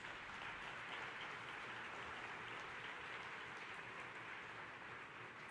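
Audience at a UN biodiversity conference in Montreal applauding, a dense, steady wash of clapping from a large crowd, even throughout and fairly distant.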